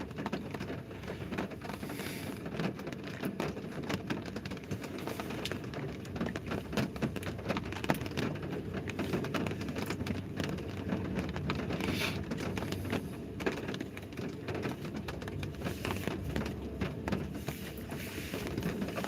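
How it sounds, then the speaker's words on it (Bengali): Heavy rain pouring down in Chittagong, a dense, steady wash of drops hammering surfaces at moderate loudness, unbroken throughout with no voices. "আসলে প্রচুর বৃষ্টি পড়তেছে চট্টগ্রামে"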